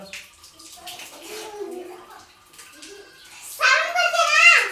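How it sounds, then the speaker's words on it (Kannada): Water sloshes and splashes in a tub, growing louder and busier toward the end, with a voice and other talk mixed in. "ನೀರು ಚೆಲ್ಬೇಡ"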